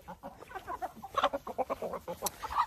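Backyard chickens cluck busily at feeding time, a dense run of short, overlapping clucks and squawks from several birds close by.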